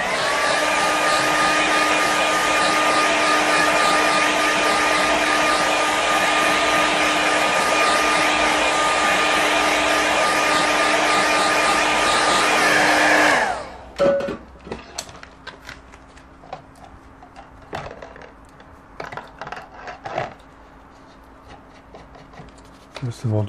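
A hair dryer blows steadily on a watercolour painting, a loud whirring roar with a constant whine for about thirteen seconds before it cuts off. Quiet brush taps and rustling follow.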